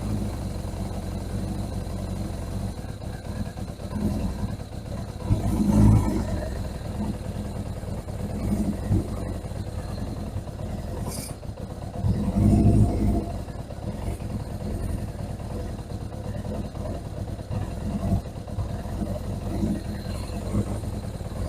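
A 1981 Suzuki GS750 motorcycle idles unevenly with the choke held, its mid-pitched engine note steady but lumpy, swelling briefly around two points and staying fairly close.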